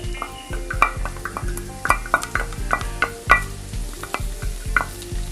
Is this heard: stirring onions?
yes